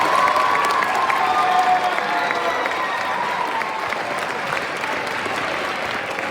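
A school audience claps steadily for a middle school concert band, the dense applause staying loud and even throughout before easing slightly toward the end.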